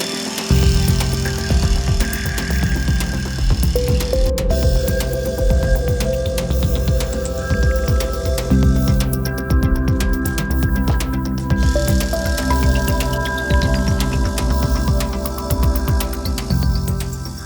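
A pressure washer spraying the carpet mats of a Jaguar I-Pace, its loud, continuous motor drone shifting in pitch as the spray starts and stops, with no one speaking over it.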